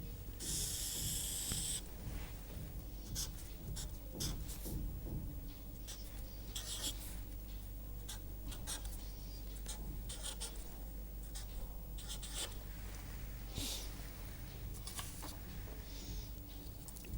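Pen or marker sketching a graph during a filter banks lecture, with bursts of scratchy strokes and short taps in irregular rhythm, close and fairly clear over a low steady room hum.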